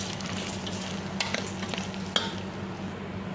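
A spoon stirs rice and lentils inside a rice cooker for khichuri, giving soft scraping and rustling over a steady low hum, with a few brighter clinks and one sharp scrape near the end.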